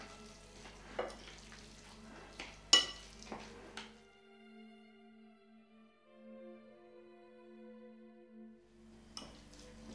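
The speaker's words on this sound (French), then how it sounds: "C'est pourquoi il faut mélanger longuement." Pizza dough being mixed at length by hand, with scraping, stirring knocks close by for the first few seconds, then a steady tonal hum continuing almost alone.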